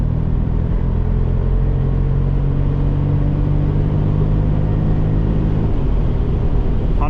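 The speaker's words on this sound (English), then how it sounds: "Let's switch it to Sport, 3 to 1, full throttle." A 2026 Mercedes G-Class in Sport mode, accelerating at full throttle on an unrestricted Autobahn at night, gives a steady, loud engine rumble from inside the cabin that climbs gradually and then shifts near the end.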